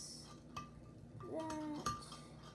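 A spoon mixes slime in a bowl, giving faint, sparse clinks and taps against the bowl, with a soft ringing tone at one point and quiet scraping between strikes.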